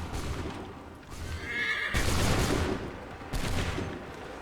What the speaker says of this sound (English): It takes forever to get the horse turned around